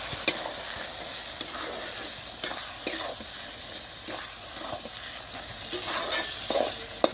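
Ginger paste, a whole tomato, salt, turmeric and chili powder fry in oil for a village-style duck curry, with a soft continuous sizzle punctuated by repeated sharp scrapes and clinks of a stirring spatula.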